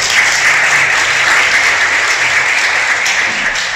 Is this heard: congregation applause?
yes